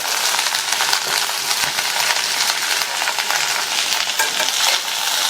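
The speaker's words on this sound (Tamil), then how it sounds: "மீதி இருக்கிற எண்ணெயோட கட் பண்ணி வச்ச வெண்டைக்காயை சேர்க்கிறேன்" Cut okra (ladies' finger) dropped into leftover hot oil in a pan, producing a loud, continuous close sizzle and frying hiss with faint stirring scrapes throughout.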